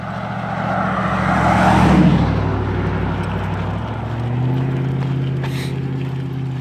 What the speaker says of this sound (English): the cars that blast by